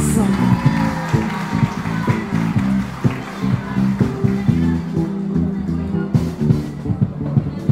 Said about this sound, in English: Let us give our footballers a round of applause.